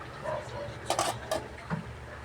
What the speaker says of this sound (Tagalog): takpan po natin ng munting ating kaldero